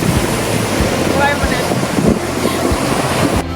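Sea waves breaking on the Cyprus coast, a loud continuous wash of surf with heavy wind buffeting the microphone throughout.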